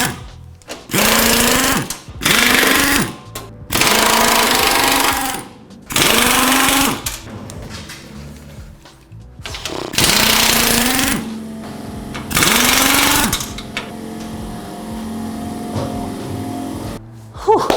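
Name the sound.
power tool removing bolts from motorcycle crate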